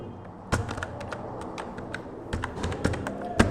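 Rapid clacking of a computer keyboard as a word is typed, a short run of crisp, close keystrokes with a louder tap near the end, alone without talk.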